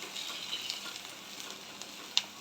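Sliced okra with green chili frying in a pan is stirred again. A faint, even sizzle runs under soft scraping strokes, and one sharp click sounds near the end.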